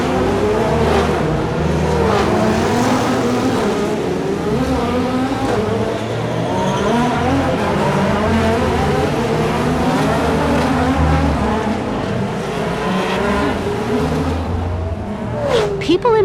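Race cars lap the Grand Prix of Long Beach street circuit during Friday practice, high-revving engines whining and shifting as they pass, with a dense, continuous roar and voices mixed in.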